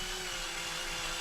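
A power drill whirs steadily into a 3D-printed filament spool holder part for a Prusa printer, a close continuous motor hum with no talk.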